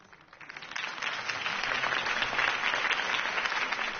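A crowd at a political campaign speech breaks into applause that builds quickly and holds as a dense, steady clatter of many hands clapping.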